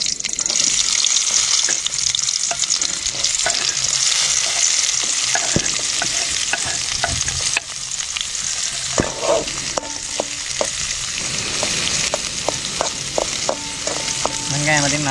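Onions frying in oil with mustard seeds in a pan, a loud steady sizzle with repeated scraping and stirring clicks, the frying easing slightly in the second half as stirring continues.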